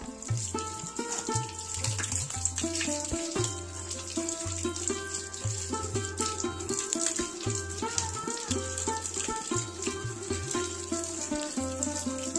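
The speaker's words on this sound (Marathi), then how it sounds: "तर आपण ते नारळ असं धुवून घेऊया." Coconuts picked from a home tree are washed under a running tap, water splashing and gushing steadily at close range while a repeating low tone plays behind it.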